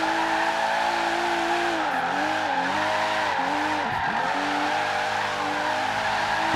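Omega 4.1 Turbo drifting in Forza Horizon 3, driven with a G27 wheel: a steady, loud engine drone runs throughout, with rising and falling tire squeal swooping as the car slides sideways.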